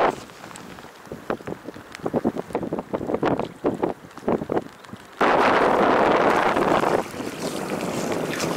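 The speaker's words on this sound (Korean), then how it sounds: "맞바람도 심하고 아주 좋습니다. 네, 바람 열나 불고, 네, 비도 내리고 아주 좋습니다." Strong wind roars across the microphone while kayaking on Uiam Lake during a rainy storm, a gusty, uneven rush that surges to a loud steady blast midway and stays heavy to the end, with no talking.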